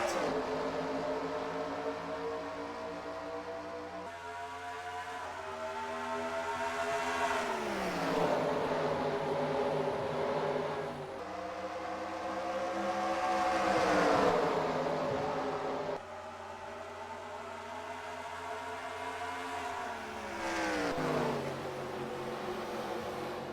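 Race cars in a desert oval sim racing game, the Rattlesnake 500, accelerate through the gears, engine pitch climbing and dropping in repeated upshift sweeps, a sustained moderate drone with no talk.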